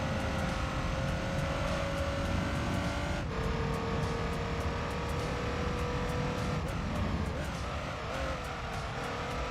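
A Ruf RGT race car based on the 911 GT3 in Gran Turismo 3, its engine droning steadily with pitch dips at gear changes, a continuous loud in-car engine note with faint talk underneath.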